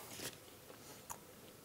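Someone bites and chews old-fashioned dry beef jerky, giving two distinct crunchy bites close to the microphone against a quiet background.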